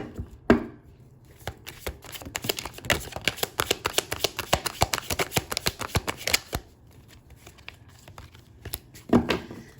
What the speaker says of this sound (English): Let's pull more cards here